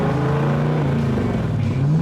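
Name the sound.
Superperformance Cobra car engine revving, Weber carburetors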